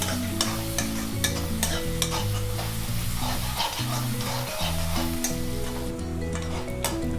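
Onions sautéing in a pan for chicken chukka, a constant loud sizzle under rapid, rhythmic spatula stirring and scraping, close by, with background music playing throughout.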